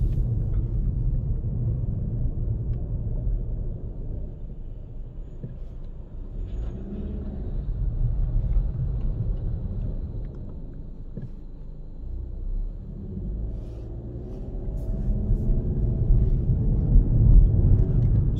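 Audi TT with a 2-litre engine and about 63,000 miles driving gently, a steady low engine rumble and road drone heard from inside, swelling louder toward the end with no talking.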